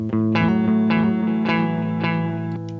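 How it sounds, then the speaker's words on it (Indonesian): An electric guitar played through an instant distortion setting on an effects unit, with several strummed chords ringing out one after another, a thick, sustained and saturated tone played alone. "Cuman gue pakai distorsi instant."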